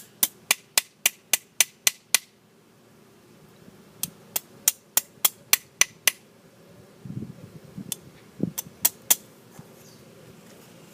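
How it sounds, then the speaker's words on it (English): Hammering sheet metal with a flat-faced flatter hammer over a small metal stake: a quick run of sharp, evenly spaced metallic taps, a pause, then further bursts of strikes, close and loud against a quiet room. "I'm going to use this flatter hammer over this little stake and just massage a little bit in this area"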